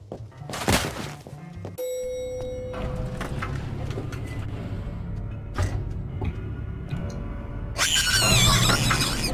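A monster in the horror game Dark Deception lets out sharp, shrill squeals amid thuds and clatter, with a loud screeching burst near the end over steady low game ambience.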